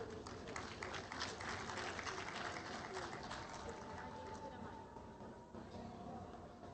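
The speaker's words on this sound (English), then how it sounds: "A big round of applause" A conference audience claps steadily for a shield presentation at an Islamic economics and finance event, a dense, sustained wash of applause from a large crowd, with a voice faintly audible underneath.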